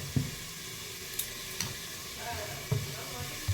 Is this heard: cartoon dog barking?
no